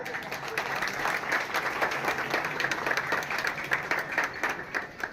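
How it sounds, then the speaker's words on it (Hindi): Audience clapping steadily throughout at a Kali Puja celebration organised by a sporting club in Kolkata, with dense continuous applause and a faint crowd murmur underneath. "तो जोरदार हाथ ताली"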